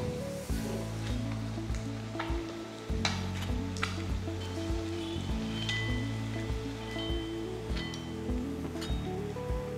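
Egg bajji, boiled eggs dipped in batter, frying in hot oil with a steady close sizzle and scattered sharp pops and crackles, no talking.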